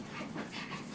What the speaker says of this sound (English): I can hear the dogs out there like anxious to get in.